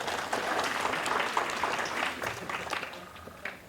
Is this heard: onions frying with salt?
no